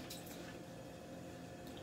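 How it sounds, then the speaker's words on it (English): A frying pan washed with running water at a kitchen sink, a steady faint splash and trickle with a few brief louder spatters, no talking. "Washing the pan."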